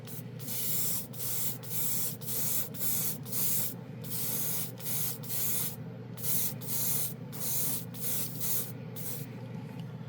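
Repeated short bursts of spray paint hissing in a steady rhythm, about a dozen sprays close by with brief pauses between them.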